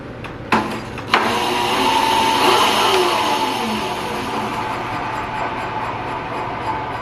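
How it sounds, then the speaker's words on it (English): A Razor EcoSmart electric scooter's motor spinning up under throttle, a steady loud whirring hum held for several seconds after two sharp clicks near the start, easing slightly toward the end. "Let's give it a little throttle."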